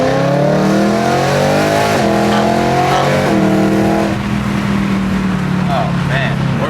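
BMW E9x M3 with its S65 V8 revving loudly and close, pitch climbing through the gears in repeated rising sweeps and then settling into a steady high drone.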